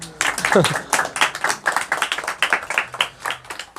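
Scattered, uneven hand clapping from a church congregation at a Friday service, a quick rhythmic patter of separate claps, with a voice speaking over it.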